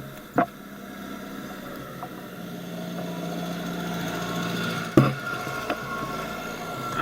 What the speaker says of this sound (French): Un tracteur de temps en temps.